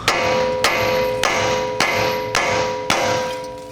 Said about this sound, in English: take a hammer and just tap on the knuckle